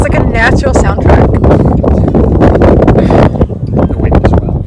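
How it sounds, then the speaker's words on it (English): Gusty wind buffets the microphone with a loud, steady rumble while people talk over it, outdoors at the Antelope Valley Poppy Reserve in California. "It's very windy here"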